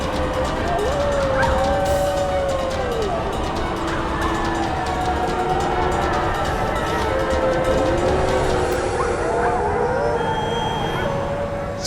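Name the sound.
jackal howling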